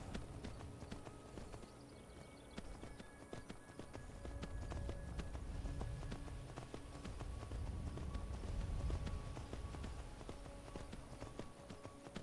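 Horse hooves clip-clop at a steady trot in the Skyrim video game, a continuous rhythmic patter of moderate loudness with faint ambient game tones behind and no talking.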